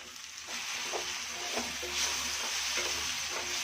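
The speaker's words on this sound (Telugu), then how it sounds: "బాగా మిక్స్ చేయాలి" Peanut powder is stirred into a sizzling tomato curry in a pan, with steady close frying hiss and soft scraping strokes of a spoon, no voices.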